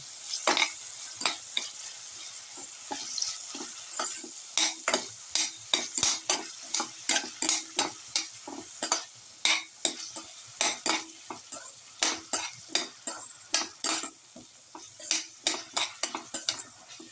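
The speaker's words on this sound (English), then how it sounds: "Thoroughly sauteing mix." Winter melon sautéing in a pan, stirred vigorously: rhythmic, close scraping strokes of a spatula on metal repeat over a bed of sizzling frying.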